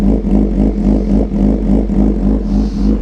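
A close cold hyper naked motorcycle engine idles while warming up, with a low, steady rumble and faint rhythmic clatter, pulsing slightly without any revving.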